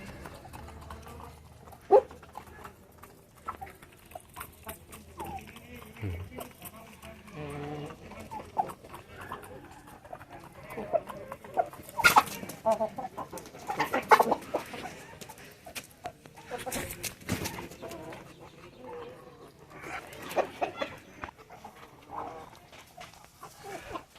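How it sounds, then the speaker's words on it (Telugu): Hungry Bhimavaram breed chickens peck at paddy grain with scattered clicks and soft clucks, plus occasional louder rustling and shuffling nearby. "మంచి ఆకలి మీద ఉన్నాయి, అందుకని ఎట్లా తింటున్నాయి వడ్లు అయితే"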